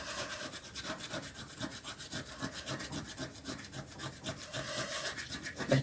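A scratch-off card being scratched with a steady, close-up rubbing and scraping that continues without a break and with no talking.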